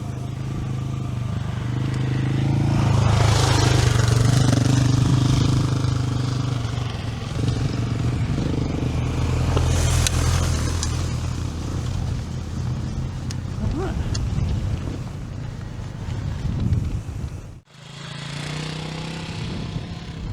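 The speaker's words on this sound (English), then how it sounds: "yeah, we got some motorbikes." Motorbikes on the dusty White Rim Trail in Canyonlands, engines droning close and loud, then rising and fading as they pass, with rattling and wind noise mixed in before an abrupt cut.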